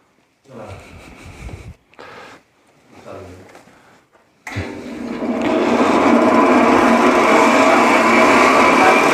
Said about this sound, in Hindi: मोटी मोटी टहनियाँ इसको निकाल करके दोबारा क्रश करता हूँ। तो ये मशीन है और इसको चलाओ बेटा ज़रा